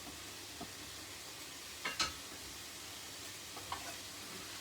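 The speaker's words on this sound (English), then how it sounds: "While we've got that paste frying away there, just releasing all those flavours" A soft, steady sizzle of paste frying in a pan for a green chicken noodle stir-fry, with a few light clinks and scrapes of stirring breaking through, no voices.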